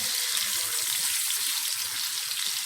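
Onions frying in a pan give a steady, dense sizzle throughout, close and loud, with light crackling pops underneath and no voices.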